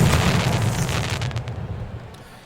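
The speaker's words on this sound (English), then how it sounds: "And cue the fireworks." Fireworks booming after a 403-foot solo home run in the baseball video game Out of the Park Baseball 21, a loud, dense burst of explosions that rumbles and slowly fades over a couple of seconds.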